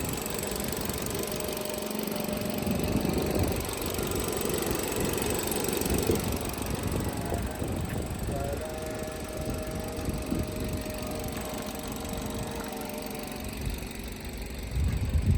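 A 2019 Hyundai Accent with an automatic transmission idling steadily with a low, continuous engine rumble and slight knocking texture, close by.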